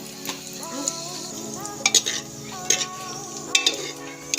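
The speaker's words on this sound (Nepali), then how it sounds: "त्यो प्याज हाल हो, त्यसरी भुट्ने" Onions fry in a pan for a Nepali meat dish with a continuous sizzle, while a metal spoon stirs and scrapes against the pan in repeated sharp clinks.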